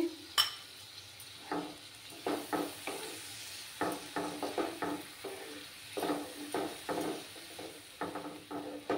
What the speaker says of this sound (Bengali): দইটাকে আমি 2 চামচ ফেটিয়ে রেখেছিলাম, সেই দইগুলো দিয়ে দিচ্ছি